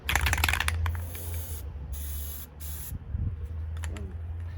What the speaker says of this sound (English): I'm just going to spray it right onto the